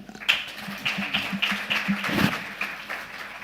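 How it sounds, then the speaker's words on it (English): Applause from a business forum audience honoring the panelists, a steady patter of claps with a few sharper close taps, moderately loud, no voices over it. "A round of applause for them."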